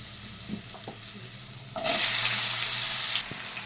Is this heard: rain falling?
no